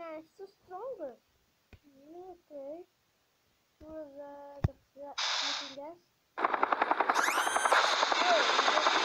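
A helicopter in a video game airship level roars up loud and steady near the end, with rapid rotor chopping, after stretches of game dialogue and electronic tones; people talk in the first half.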